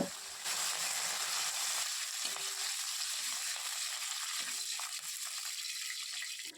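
Curry leaves and broken dried red chillies sizzle steadily in hot oil, stirred constantly until they wilt for a tomato upma; a continuous close crackling hiss with no talk.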